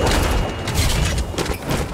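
Aircraft crashing in the Fortnite video game: loud, dense broadband rumbling and booming impacts with sharp crackling bursts, sustained for two seconds without talk.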